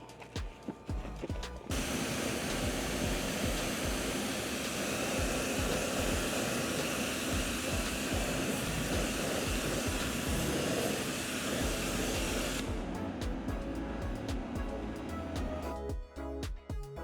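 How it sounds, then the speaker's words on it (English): A heavily soiled wheel-washing mitt is rinsed under a steady, loud water spray during a 2022 Mercedes-Benz S-Class exterior wash, a continuous hiss lasting about eleven seconds with brief handling noises before and after. "Because of how dirty it is, I'm gonna rinse it out."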